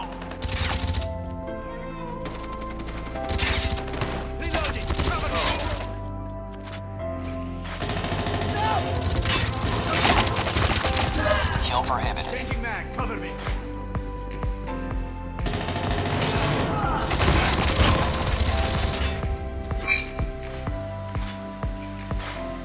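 Bursts of gunfire from the mobile shooter Call of Duty Mobile on the High Rise map, rapid automatic fire and repeated shots in clusters with short pauses, mixed with game effects and occasional voice lines.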